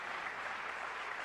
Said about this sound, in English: they were applauding the combination and the fact that the ball went in as well